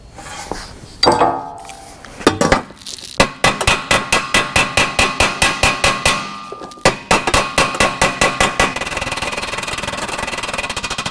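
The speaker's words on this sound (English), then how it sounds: "let's hammer out this weld so we can get in there with a barrel sander" Repeated sharp hammer blows hammering out a weld on a shortened metal 409 valve cover, a fast steady rhythm of ringing clangs, loud and close, followed by a continuous mechanical whir.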